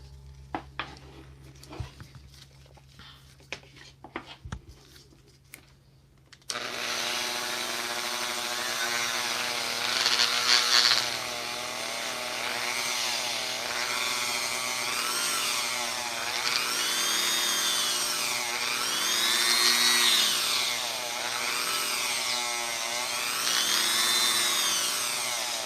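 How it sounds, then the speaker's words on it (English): A Dremel rotary tool sanding a plastic action figure part, starting after a few quiet handling taps, then a loud steady high-pitched whine with rising and falling pitch as the load changes, continuing to the end. "I'm now going to take and sand that out with my Dremel tool"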